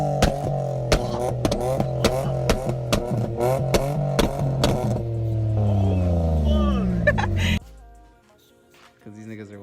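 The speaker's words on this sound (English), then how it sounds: "I'll insert a video of my car shooting flames" A Nissan 350Z revs hard in a series of sharp, rapid blips with popping exhaust bangs, then holds a sustained rev before cutting off abruptly to near silence.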